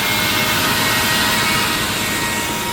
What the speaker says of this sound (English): It's revving up more.